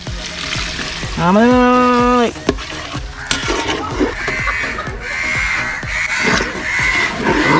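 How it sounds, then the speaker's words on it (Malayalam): Turkey curry gravy boils and sizzles in a pot with a steady close bubbling hiss, and a brief whinny-like tonal squeal rises over it near the start. "നമ്മുടെ ഗ്രേവി ഒക്കെ ഇങ്ങനെ തിളച്ചുകൊണ്ടിരിക്കുകയാണ് കേട്ടോ"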